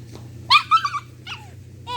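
A young puppy on a leash gives a few close, high whimpers and yips in quick succession, with a low steady hum running underneath.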